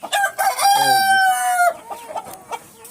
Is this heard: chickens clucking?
yes